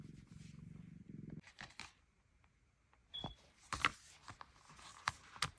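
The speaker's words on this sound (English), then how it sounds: "You're gonna purr for our crafty friends." A domestic cat purrs close by at the start, a steady low rumble lasting over a second, followed by quiet rustling, small clicks and handling noises of a craft session.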